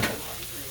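Bacon sizzles in a frying pan for a cheeseburger, a brief close hiss with a crackling burst at the start settling into steady frying.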